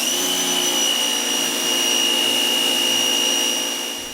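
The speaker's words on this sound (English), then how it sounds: "it sounds like just about every other electric pressure washer with a universal motor" A Bauer 2000 PSI electric pressure washer with a universal motor runs steadily at close range, a loud, constant whining roar with high pitched tonal hums that holds unbroken for about four seconds before easing slightly at the end.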